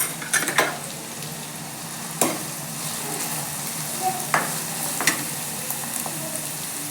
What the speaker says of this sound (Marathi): कांद्याला मस्त असं सोनेरी रंग येईपर्यंत कांदा परतून घ्यायचा